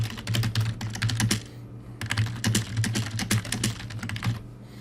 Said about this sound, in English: It does help if I could type.